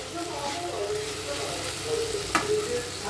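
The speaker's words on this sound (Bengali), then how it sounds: "এদিকে হচ্ছে আলু ভেন্ডি ভাজা" Potato and okra fry in a pan with a steady, close sizzle and occasional stirring scrapes, while a voice talks faintly in the background.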